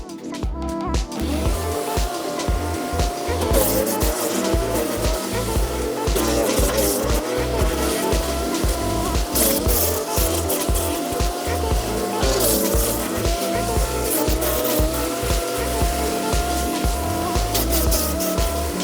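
A PROCRAFT wood chipper shreds pruned branches, giving a loud, steady mechanical roar with rhythmic chopping pulses and crackling bursts as wood feeds through, continuous for the whole stretch.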